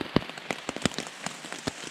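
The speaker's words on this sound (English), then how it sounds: "It's rain. Wasn't supposed to rain." Rain patters on a surface in irregular, sharp close drops, some louder taps standing out against a light continuous hiss, with no voices.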